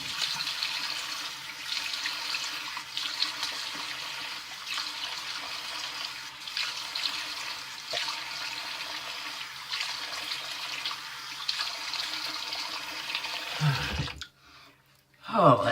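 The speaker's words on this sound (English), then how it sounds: "Cold water rinse always feels good." Cold tap water runs steadily into a sink for a post-shave rinse, a continuous splashing flow that cuts off abruptly near the end, followed by brief handling noise.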